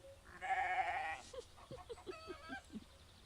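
A goat bleats once, long and wavering at close range, followed by a run of short, softer grunting bleats and faint bits of movement at night.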